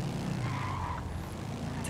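A car in a heist video game skids through a sharp turn, giving a brief tyre squeal over a continuous engine rumble, moderately faint and without talk.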